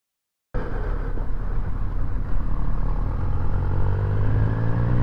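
A Triumph Street Triple 765 motorcycle engine starts suddenly after a moment of silence, then holds a loud, close, rough roar that swells in intensity over several seconds.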